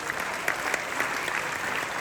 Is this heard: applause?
yes